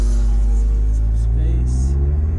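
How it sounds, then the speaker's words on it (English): Audi S3 with a Milltek non-resonated exhaust gives a raspy, steady engine drone with low rumble throughout, with faint voices in the background. "it is a little bit raspy because it is a non-res system"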